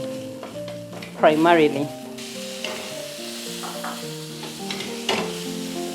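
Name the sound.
sautéing onion and garlic in a pot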